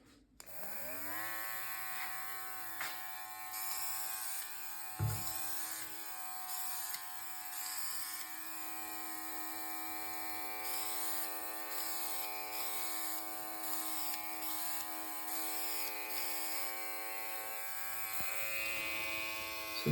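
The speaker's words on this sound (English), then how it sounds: "So I'm going to have a go at this with my trusted airbrush and compressor" An airbrush driven by a compressor sprays weathering paint onto a model railway layout, a constant humming compressor drone with a steady hiss from the spray and short on-off bursts throughout.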